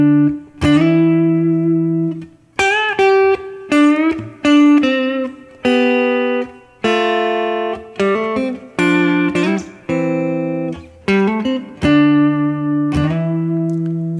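Electric guitar playing a turnaround lick with a smooth effect, a run of sustained, ringing notes and bends with clear attacks, fairly loud and alone without any talk.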